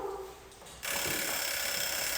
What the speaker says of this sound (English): Timer says it's time!